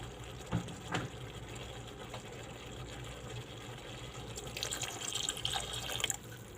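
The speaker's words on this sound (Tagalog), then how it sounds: "Magdagdag tayo ng tubig." Tap water runs into a container while kimchi is being made, a steady, fairly faint flow with a few clinks and a louder splashing rush near the end.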